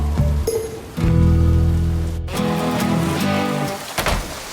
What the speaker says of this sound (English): I still think we should wait till the rain slows down